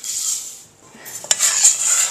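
Rice stirred with butter in a pot on a high flame, with a soft scraping hiss, a quieter dip midway, then a few sharp utensil knocks against the pot.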